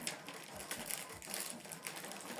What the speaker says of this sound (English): So it's printing out the alignment page.